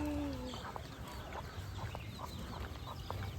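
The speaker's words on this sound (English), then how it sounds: "Look at these little baby chickens." Small, faint chirps and clucks from baby chickens near their mother hen in Hawaii, scattered brief calls over a low outdoor rumble, with no talking.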